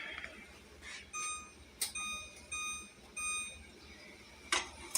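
Electronic kitchen timer beeping in short bursts of repeated high tones, several groups over a few seconds against a quiet background, set for 15 minutes while making peach jam.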